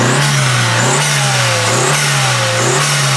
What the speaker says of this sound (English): I started it and gave it some gas right after I started it, revved it a bit